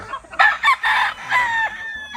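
Chickens cluck in short bursts while a rooster crows loudly nearby, with overlapping calls from several birds; four hens and a gamefowl flock on a game farm.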